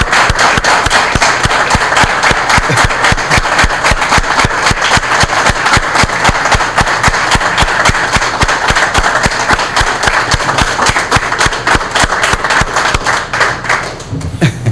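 Loud, sustained applause from an audience at a televised conversation with President Funes of El Salvador, dense continuous clapping that holds steady for the whole stretch before tapering at the very end.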